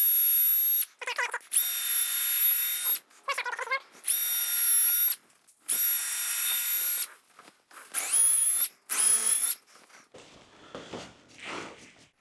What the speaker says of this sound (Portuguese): Então vou colocar tudo isso e depois vamos furar tudo.